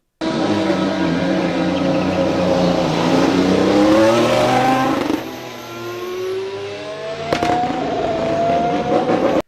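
A 2021 AlphaTauri AT02 Formula 1 car's engine screams through rising gear shifts during pre-season testing, pitch climbing and dropping as it accelerates past, loud and close, with sharp bursts near the end.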